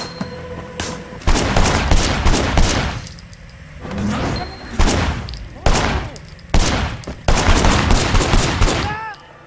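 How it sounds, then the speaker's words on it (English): Gunfire from a shooting scene in the Sleeping Dogs action game, fired from a car's passenger window: loud, rapid volleys of shots in several bursts, with brief quieter gaps between them. "There was a shooter, firing shots from the passenger window."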